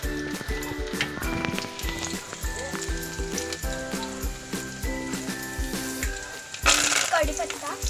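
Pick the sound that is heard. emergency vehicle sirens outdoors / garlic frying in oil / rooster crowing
garlic frying in oil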